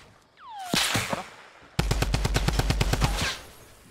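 Gunfire in the video game Fortnite: a few scattered shots and whizzing tones, then a fast, loud burst of rapid automatic fire that ends abruptly.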